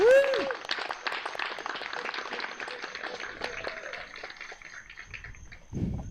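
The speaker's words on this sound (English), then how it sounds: "I love a good slow clap." Tennis crowd at a night session of a pro tennis challenge giving a scattered, slow clap, steady patter of hands at moderate distance, with a sharp whistle-like sound at the start and a low rumble near the end.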